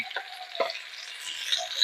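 Rita fish fries in a pan in a village kitchen, giving a continuous hiss and crackle with a few sharper pops and stirring scrapes, close and alone.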